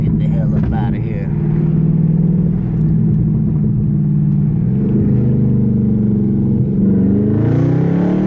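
A Dodge Hellcat SRT engine rumbles loud and close while dropping gears on its paddle shifters. The drone rises and dips through several pitch shifts, and a voice talks over part of it.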